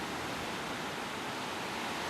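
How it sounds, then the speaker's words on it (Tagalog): Continuous roar of big brown storm-churned waves breaking on a beach during a typhoon, a dense steady wash of surf filling the scene without any voices. "Kita nyo po yung alon, ang lalaki oh."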